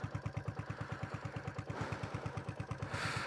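A Royal Enfield Classic 350 motorcycle ridden offroad on a rough white road, its single-cylinder engine thumping in a steady fast beat up close, with clatter and a brief swell of wind noise near the end.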